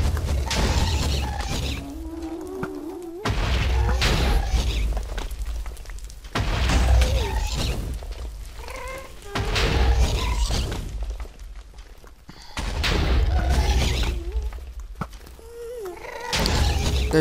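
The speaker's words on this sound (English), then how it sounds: "There are too many explosions right now." Repeated bursts of loud, booming Minecraft explosions in a cave with crashing debris, each blast followed by a rumbling tail, several in a row.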